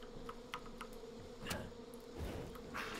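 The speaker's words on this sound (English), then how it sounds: "And you're going to want to burn all these bees." Bees swarm around a hive in Far Cry 5, a steady low buzzing drone with small ticking clicks scattered over it, faint and continuous with no voices.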